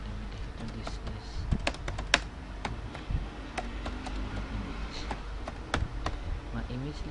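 Keys on a computer keyboard clatter at close range as HTML code is typed, irregular bursts of clicks and taps over several seconds with a few louder strikes, alone without voices.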